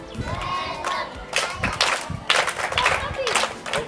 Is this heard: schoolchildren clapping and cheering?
yes